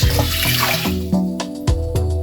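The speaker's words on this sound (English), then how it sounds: "We're going to add just enough water to cover it," Water poured from a tap over a cup of washed lentils in a cooking pot, a steady running splash with a few brief bumps and knocks, close and fairly loud with no talking.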